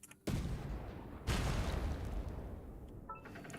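Cannon in Genshin Impact firing cannonballs, two heavy booms in quick succession, the second followed by a long rumbling tail that slowly fades, close and loud.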